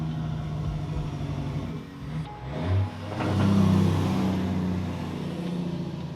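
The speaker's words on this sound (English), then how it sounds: "Sorry about the traffic noise." Loud road traffic passes nearby, a car engine swelling and roaring as it goes by, sustained and fairly steady, with no talking over it.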